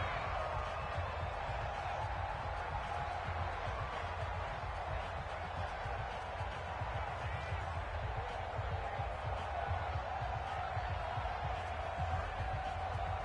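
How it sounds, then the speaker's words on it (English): Steady roar of a football stadium crowd during a fourth-quarter third down, a continuous wash of cheering and noise with a play-by-play voice talking over it throughout. "the crowd getting into it as we come up on a big third down"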